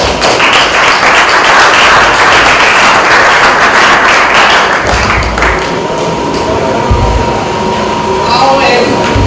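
Student audience applauding at a homecoming presentation, a loud dense wash of clapping close by that fades midway into a quieter room tone with a few thuds.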